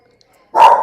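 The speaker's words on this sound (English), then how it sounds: "In the background, that's Mandy the dog, just in case you're wondering" A dog gives one short, sharp bark in the background after a quiet stretch, loud and abrupt against an otherwise silent room.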